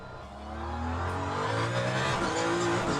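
Race car engines in the Le Mans Ultimate sim racing game at Monza, a steady loud drone of revving motors with shifting harmonic pitch that holds for the whole stretch.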